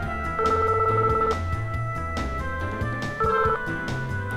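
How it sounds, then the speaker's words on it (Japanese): Telephone ringing in the PS1 detective game Tantei Jinguji Saburo, two short bursts of electronic ring tone over quiet game background music. "私は焦る気持ちを抑え神宮寺事務所に電話をかけることにした"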